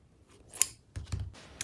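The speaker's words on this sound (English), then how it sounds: "Take your remaining binding and cut it into two." Scissors cutting fabric binding for a sewn backpack: two crisp, close snips about half a second apart in an otherwise quiet room.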